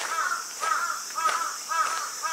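A crow gives four evenly spaced caws, clear and moderately near, at Asuka Niimasu shrine in Japan, over a soft hiss of background noise.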